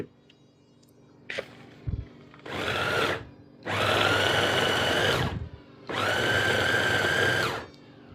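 A food processor pulses chopped onion, garlic and herbs. After a few light clicks, three loud motor bursts of about one to two seconds each are separated by short pauses.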